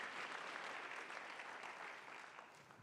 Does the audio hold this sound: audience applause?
yes